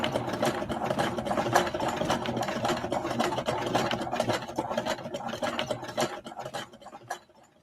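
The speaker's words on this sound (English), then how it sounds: "a mechanism resembling a sewing machine" A sewing machine runs steadily, its rapid needle mechanism clattering in a dense, continuous rhythm that slows and stops near the end, with no voices.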